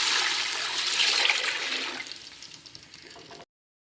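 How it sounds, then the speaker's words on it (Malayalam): Water for chicken biryani gushes into a cooking pot of rice in a loud, steady pour that thins into trickles and drips before stopping abruptly; nobody speaks. "ഇതിലേക്ക് വെള്ളം ഒഴിച്ച് കൊടുക്കാം."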